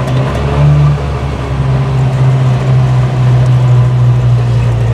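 A Trabant 601 engine roars steadily at high revs after the throttle is released, a loud continuous drone with a slight rise and fall in pitch, close by and without speech.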